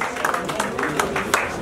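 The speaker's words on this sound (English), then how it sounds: "I want to put our hands together for this" A church congregation claps for their pastor at his birthday celebration, a steady patter of many hands that swells in uneven bursts and stays close and lively throughout.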